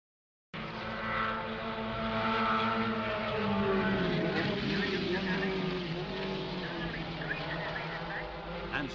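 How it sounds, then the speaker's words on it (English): Formula 1 racing cars at the finish of a race, a continuous high-pitched engine roar with rising and falling pitch as cars pass, steady and fairly loud after a brief silent start. "Rindt wins the race from Brabham on the last corner"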